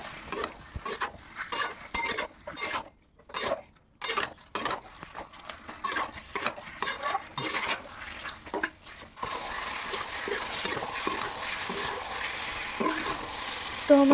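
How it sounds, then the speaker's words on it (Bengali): Fish frying in chilli gravy in a pan, stirred with a utensil: rhythmic scraping and clinking strokes over a steady sizzle, the stirring dense at first before giving way to a continuous close frying hiss. "তো মাছটার সঙ্গে গ্রেভিটা ভালোভাবে কষিয়ে নেব।"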